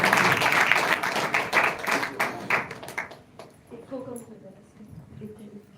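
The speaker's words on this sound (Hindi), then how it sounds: "आइए प्रभु का दास का स्वागत करते हैं हम ताली" Congregation at a Sunday church meeting clapping to welcome the preacher, a dense burst of many hands that is loud for about three seconds and then thins out, with a voice speaking over it toward the end.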